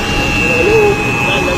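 A jet aircraft's engine whines steadily at an airport as it arrives, giving a loud, continuous roar with a high sustained tone throughout.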